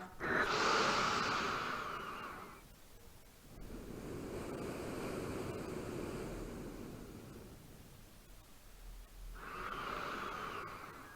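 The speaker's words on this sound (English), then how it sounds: "Come back to the breath." Slow, audible breathing during a beginner yoga pose, with long airy inhales and exhales in a soft, close rhythm, no talking.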